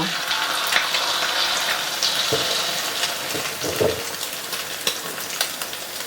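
A Thai basil omelette fries in hot oil with a loud, dense crackle and sizzle that runs throughout, joined by a few low bumps and shifts from the pan.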